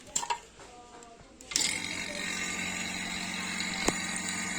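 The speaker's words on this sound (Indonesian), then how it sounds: "Tinggal kita nyalakan vakumnya" A vacuum pump hooked up for a refrigerator repair starts with a click and runs as a steady, even mechanical hum and rattle, close by and moderately loud.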